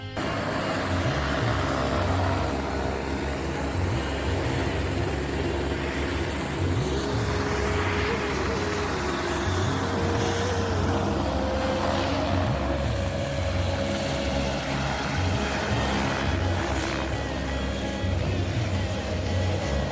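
A helicopter flying to Ghangaria in Uttarakhand, India, drones steadily and loudly throughout, its engine and rotor hum continuous and unbroken, with no voices.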